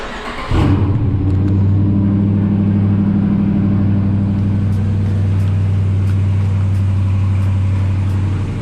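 A Dodge Challenger with a 5.7 Hemi engine cranks and fires up abruptly, then settles into a loud, deep, steady idle rumble heard from the front of the car.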